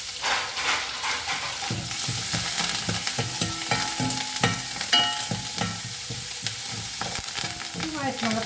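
Curry leaves and onions sizzling in oil in a pan while being stirred for a lady's finger curry, loud crackling and hissing close up with repeated utensil scrapes and clinks against the pan.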